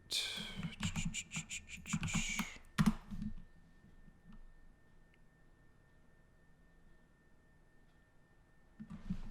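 Quick clattering keystrokes on a computer keyboard enter terminal commands in close bursts, then stop into a quiet room hum before a few more taps at the end.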